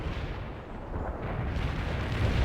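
Heavy artillery fire in the World in Conflict video game rumbles as a continuous, dense barrage, with deep booms blending into a steady roar that swells toward the end.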